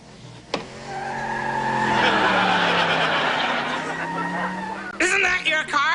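A car drives up with a rising engine and long squealing, skidding tires that swell over several seconds, followed by crowd chatter and voices near the end.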